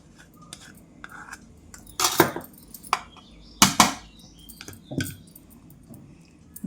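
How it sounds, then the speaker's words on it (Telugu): A few wet squishes and soft clinks as tamarind paste is stirred into cooked rice for gongura pulihora, two sharper scraping bursts standing out over quiet background, close and sparse with no talk. "ఈ చింతపండు పేస్ట్ను కూడా వేసేస్తున్నాను."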